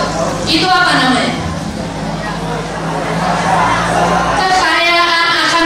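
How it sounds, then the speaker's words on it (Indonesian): Crowd of children at a school event in Cirebon clapping and cheering for a boy named Kevin, a loud, dense wash of applause, shouts and whoops that swells, eases and rises again. "Tepuk tangan dulu buat Kevin"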